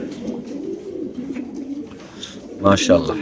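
Racer pigeons in a market cage cooing in low, rolling calls, with a louder burst of coos near the end; someone talks over the birds throughout.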